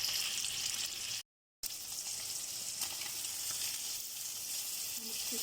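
Fish fries in a pan with a steady, close hiss of sizzling oil that runs throughout, broken only by a brief dropout near the start. No one speaks.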